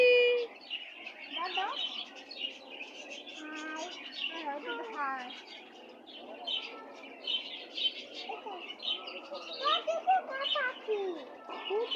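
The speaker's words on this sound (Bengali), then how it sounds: "পাখি দেখো পাখি" Small birds chirp and tweet in quick, scattered bursts, mixed with a voice speaking nearby.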